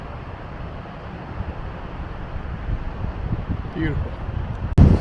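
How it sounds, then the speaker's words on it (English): Steady, gusty wind rumbles and buffets the microphone on a Florida Panhandle beach; a person says a single word near the end. "it's pretty wild and windy"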